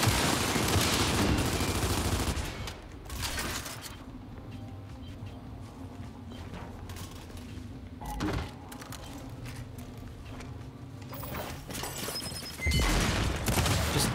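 Rapid gunfire in the video game Gears 5, dense bursts at the start and end with quieter stretches of combat noise between, heard loud and close.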